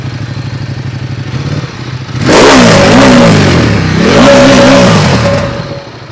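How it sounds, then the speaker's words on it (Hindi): A 2019 Ducati Diavel 1260 on its stock exhaust idles with a lumpy throb, then is revved hard twice in a row, each loud, raspy roar climbing and falling back before the engine settles toward idle. "थोड़ा सा रेव करना भैया,"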